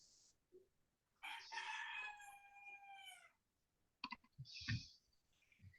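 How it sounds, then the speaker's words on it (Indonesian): A rooster crows once, a clear drawn-out cock-a-doodle-doo at moderate distance, followed by a few faint clucks and clicks in a quiet setting. "Ayam itu."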